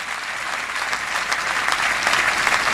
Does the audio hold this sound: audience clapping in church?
yes